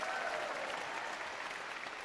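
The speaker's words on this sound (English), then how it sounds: "we're going to give them a round of applause" Arena crowd at a concert in Tokyo claps in a dense, sustained wash of applause, steady and fairly even throughout with faint cheering inside it.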